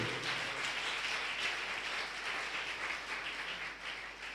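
A church congregation applauds steadily, a broad, continuous wash of many hands clapping together at moderate distance, with no distinct individual claps standing out.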